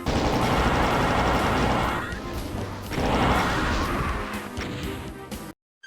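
Plasma and heavy weapon fire during a Doom boss fight against the Cyberdemon: two long, loud, roaring bursts of rapid shots and crashes, each trailing off, before the sound cuts out abruptly.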